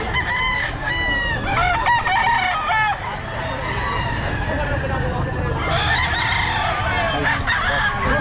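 A rooster crows repeatedly at a busy Filipino market stall where fowl are on sale, its calls rising over a dense crowd murmur and nearby chatter, with several crows in quick succession early on and again near the end.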